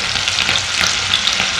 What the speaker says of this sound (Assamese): পিঁয়াজখিনি অকণমান ৰঙচুৱা হোৱালৈ ভাজি ল'ম।